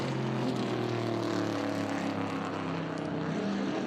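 Historic Trans Am race cars at WeatherTech Raceway Laguna Seca: a sustained, loud engine roar with steady droning tones, as if cars pass at speed, with no speech over it.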